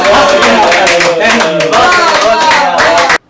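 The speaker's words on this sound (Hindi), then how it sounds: "ताली बजाओ।" An audience at a live comedy show claps hard and close, a loud dense burst of applause that swells and dips before cutting off abruptly.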